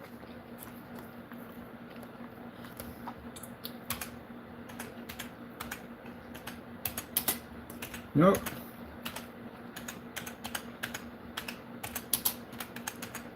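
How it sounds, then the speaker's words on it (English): Steady typing on a computer keyboard, close and fairly quiet, with clustered key clicks over a constant low hum. One brief spoken word cuts in partway through. "Now I'm typing it now."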